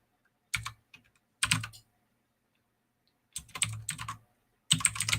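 Typing on a computer keyboard in short bursts of rapid clicking keystrokes separated by silent pauses, close and clear with no talk.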